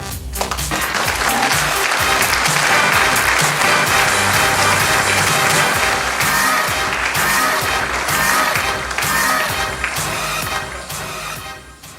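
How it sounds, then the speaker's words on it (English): Loud, sustained audience applause for the models at a fashion showcase, filling the hall steadily with dense clapping from a large crowd before fading at the very end. "Please give the models a round of applause."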